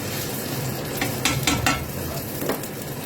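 Fish burger batter fries in a pan over lowered heat, giving a steady broadband sizzle throughout, with a few brief scraping stirs of a spoon near the middle and end.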